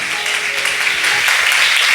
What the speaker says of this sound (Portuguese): pode aplaudir o Senhor bem forte